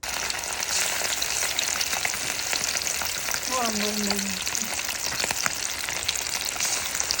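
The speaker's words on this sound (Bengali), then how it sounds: "অন্য পাশে আমি ভাজা শুরু করে দিয়েছিলাম" Constant crackling sizzle of food frying in a hot pan, with a short tonal squeak partway through and no speech.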